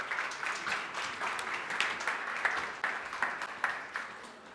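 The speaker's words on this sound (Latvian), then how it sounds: "Sagaidām ar aplausiem." Audience applause at an agricultural conference in Latvia welcoming the minister of agriculture, a steady patter of many hands clapping with a few louder bursts, moderately distant and without speech.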